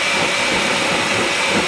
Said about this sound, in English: I'm going to start to blend, so it's going to get loud.